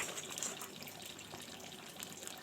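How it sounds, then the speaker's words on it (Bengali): Water poured into a pan of frying prawns with spices for potol chingri, a soft steady splashing and sizzle, faint and close with no voices. "এবার পরিমাণ মতন জল দিয়ে কিছুক্ষণ"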